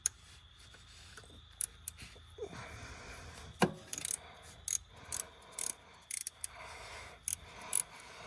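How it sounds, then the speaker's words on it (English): A 10mm ratchet working a bolt on a 2014 Tesla Model S P85 during a hitch install, heard as scattered sharp clicking ratchet strokes in short irregular bursts over a quiet background. "Then you just take a 10mm ratchet."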